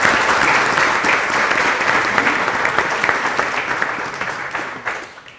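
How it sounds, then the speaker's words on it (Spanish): Audience applause fills a panel discussion on computing, a dense steady patter of many hands clapping together that holds strong and then tapers off near the end. "Recibámonos también con un aplauso"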